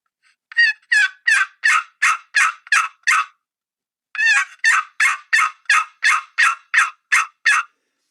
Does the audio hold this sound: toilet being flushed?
no